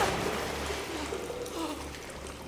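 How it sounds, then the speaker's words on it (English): Flowing water in the video game Senua's Saga: Hellblade 2, a steady broadband rush of pouring, trickling water inside a cave, continuous and fairly close with no talk over it. "Water. Water everywhere."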